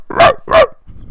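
A person imitates a German Shepherd barking, giving two loud, close, distinct barks followed by a faint low trailing sound.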